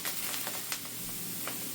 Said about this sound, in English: the sizzling Scrapple goodness